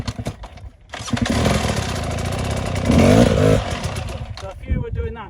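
A hard enduro motorcycle engine revs loudly at close range during off-road riding training in Cambodia, holding a steady drone and then climbing in pitch around the middle before easing back, with a person talking alongside.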